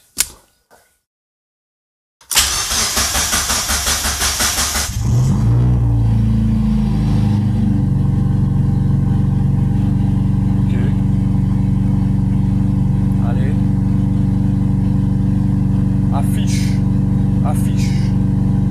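A Mazda MX5 drift car running a newly fitted aftermarket ECU cranks for a couple of seconds, then catches and settles into a loud, steady idle, with faint voices in the background.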